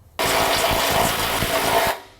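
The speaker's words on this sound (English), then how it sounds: "I'm gonna get a power tool." A power tool whirs on abruptly while working on a Lexus LX 450's suspension, runs at a steady high-pitched drone for a couple of seconds, then winds down. It sounds close.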